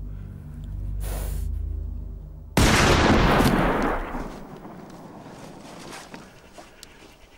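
A gunshot used to kill a cow in a rural Danish film scene. A low rumble comes first, then one sudden loud blast that decays into a long echoing tail of noise.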